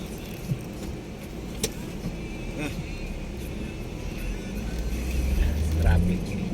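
Busy road traffic rumbles steadily as cars pass close by, the low roar swelling toward the end, with people talking over it.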